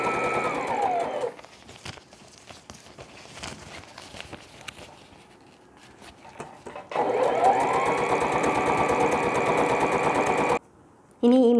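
A sewing machine stitches fabric pieces together for a hanging baby laundry bag, running in two steady, rapid mechanical bursts close up, with quieter handling and rustling between them and a brief stop near the end.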